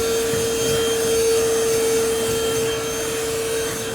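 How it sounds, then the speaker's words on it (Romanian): A small handheld cordless vacuum cleaner runs close by with a steady whine and airy rush, holding even for a few seconds before easing slightly. "Avem și acest aspirator de mână pentru a aspira."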